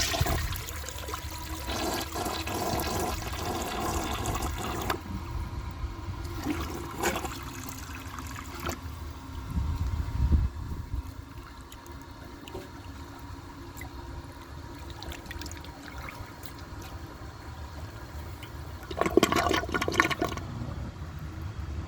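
Flushing of a 1999 Porcelamex toilet, with a rushing water swirl and draining that rises twice, the loudest surge near the end as the bowl refills, heard up close with no talking.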